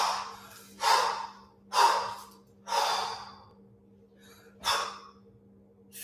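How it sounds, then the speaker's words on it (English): Heavy, forceful breaths during a kettlebell long cycle workout, five loud exhalations spaced roughly one to one and a half seconds apart, close and alone over a steady low hum. "I'm going to breathe loudly."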